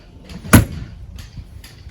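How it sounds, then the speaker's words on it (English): A 1-inch thick baggage door on a Heartland North Trail 26LRSS camper swings shut with its slam latch: one sharp, loud close at close range, then a quiet, low background. "Our camper also has the 1-inch thick baggage doors with the nice slam latches"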